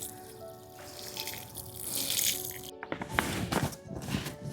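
Leftover rice-washing water pours and splashes onto garden soil, a close, uneven trickle that gets louder and choppier toward the end.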